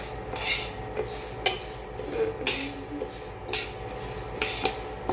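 Moong dal dry-roasting slowly in a pan on an induction cooktop over low heat, with a spatula scraping and stirring in repeated strokes against the pan surface.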